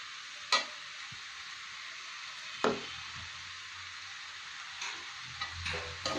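Mixed vegetables for a sabzi bhaji sit nearly done in a pan, with a few sharp spatula scrapes and stirring knocks standing out over a faint, quiet background hiss.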